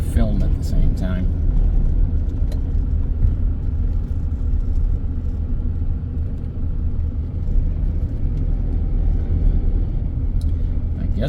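A car rumbles along a rough road with a continuous low road and engine drone and occasional knocks. A person talks over the noise.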